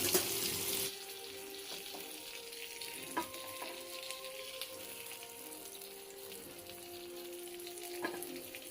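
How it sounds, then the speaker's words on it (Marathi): Jitada fish pieces fry in a pan with a steady, moderately loud sizzle and crackle throughout, broken by a few small pops and a brief scrape near the start, with no talking. "वरची साईड मस्तपैकी फ्राय केली त्या साईडला फ्राय करूया मस्तपैकी"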